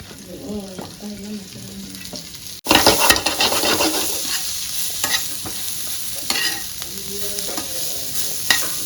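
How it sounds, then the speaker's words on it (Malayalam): Sliced onions tossed and stirred in a hot frying pan for a burger filling, a loud continuous sizzle that surges abruptly as the onions hit the pan, with scraping stirs throughout and no talk. "ഈ സവോള ഒന്ന് ടോസ് ചെയ്തെടുക്കാം കേട്ടോ ബർഗറിന്റെ ഉള്ളിൽ വെക്കാനുള്ളതാണ്"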